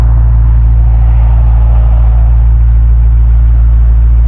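Steady, loud engine drone from a 2026 BMW M5 G90 with a deep low rumble, running continuously without pause.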